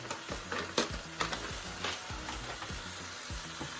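Corn stirred in a hot pan for chili verde, soft repeated scraping strokes over a faint steady sizzle, close but quiet.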